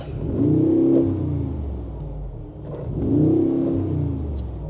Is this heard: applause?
no